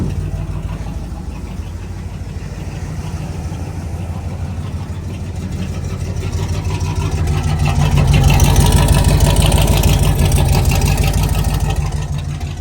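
A square-body truck engine running at high idle makes a steady, loud mechanical drone close by, swelling somewhat louder partway through with no talk.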